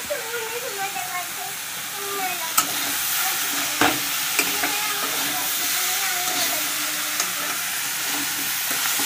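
Vegetable curry cooking in a pan, a continuous sizzle with occasional stirring clinks and scrapes, under a faint background voice.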